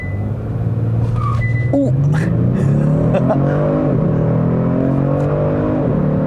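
Launch-control start in an all-wheel-drive 2020 Cadillac CT5-V or Genesis G70 3.3T sports sedan: a loud, near engine roar climbs steadily through the gears over several seconds, with a brief exclamation from a voice at the start.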